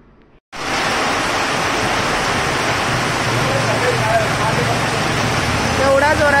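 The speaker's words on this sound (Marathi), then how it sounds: "एवढा जोरात पाऊस आहे बघा," Heavy rain pouring down starts abruptly after a brief quiet moment, then holds as a loud, dense, steady rushing wash close by.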